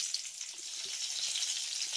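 Black cumin seeds and a green chili fry in hot mustard oil, giving a soft, even sizzling hiss that stays quiet and steady with no talking.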